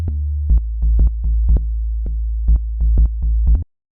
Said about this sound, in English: The next sound that I have here is the bass